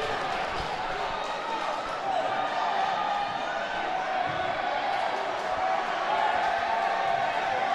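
A high school basketball tournament crowd roars steadily in a gym, with a continuous wash of noise, occasional ball bounces and an announcer's voice talking over it.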